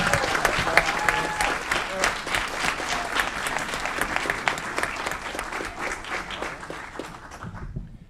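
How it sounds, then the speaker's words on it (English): A city council meeting audience gives a round of applause for a fire department employee receiving a long-service award, steady hall-wide clapping that tapers off at the end. "please give a round of applause for Ms. Cheryl Salinas"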